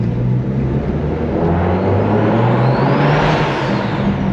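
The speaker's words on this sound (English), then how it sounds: "This car sounds so good" Single-turbo engine of a 1M clone car, heard from inside while driving: a steady, loud drone with a rising whir as it pulls, continuous throughout with no talking.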